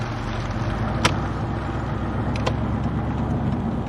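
Steady low engine and road rumble from a car travelling at night along country roads with headlights on full, constant and close, broken by a couple of brief sharp ticks.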